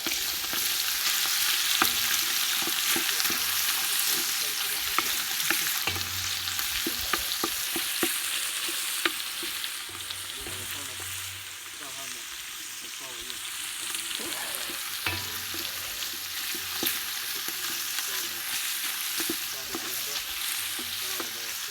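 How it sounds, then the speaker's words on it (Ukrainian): Cubed pork fat frying in a cauldron for bograch, a steady close sizzle with scraping stirs and occasional spoon knocks against the metal, continuing for about twenty seconds without talk. "Помішуємо, щоб не пригоряло."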